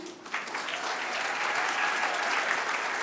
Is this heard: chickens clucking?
no